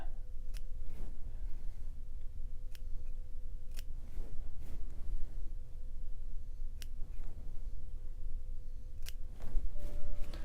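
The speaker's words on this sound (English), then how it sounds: "So I comb and I do a gentle push and I snip" Curved scissors trim moustache hair up close, giving a series of about eight crisp, sharp snips at irregular intervals over a low background hiss, with no talking.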